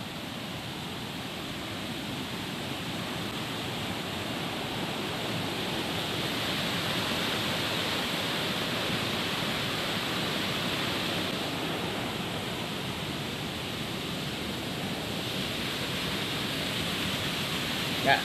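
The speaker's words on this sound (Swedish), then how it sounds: "Här var det full fart på vattnet." Fast-flowing rapids on the Borkhultsån river in spring flood give a steady, dense roar of rushing water that stays constant and fairly close throughout.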